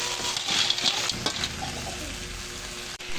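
Mixed seafood is stirred in a hot pan over sautéed aromatics with Cajun seasoning. A steady close sizzle runs throughout, with scraping stir strokes and light clinks in the first second and a half.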